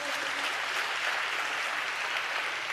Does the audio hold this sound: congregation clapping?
yes